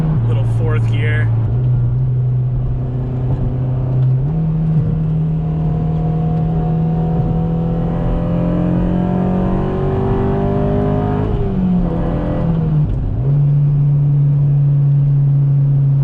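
A Honda Civic Si with a K20 engine pulling hard in fourth gear, a loud sustained engine drone rising in pitch from inside the car, with a brief shift partway through and people talking over it.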